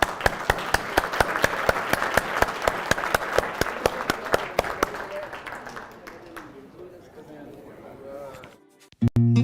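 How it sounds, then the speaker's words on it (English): Round of applause at a conference gathering, with sharp, rhythmic claps from a small group that thin out and fade after about six seconds, followed by murmuring voices and a sudden louder sound at the end. "Big round of applause to everybody."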